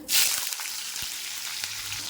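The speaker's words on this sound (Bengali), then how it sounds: "দিয়ে দেবো একটুখানি নুন। দেখো, ভালো করে ভেজে নেব।" Bitter gourd frying in oil in a pan for Bengali shukto, with a little salt added, gives a steady close sizzling hiss that stays even throughout, with a brief louder burst of crackle at the start.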